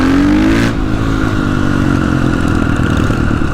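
A Husqvarna 501 enduro motorcycle engine revs hard up close, the pitch climbing sharply at first and then settling into a loud, steady, rough roar with a mechanical clatter running through it.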